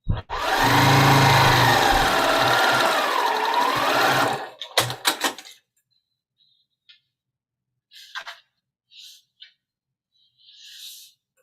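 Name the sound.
sewing machine attaching stem to fabric pumpkin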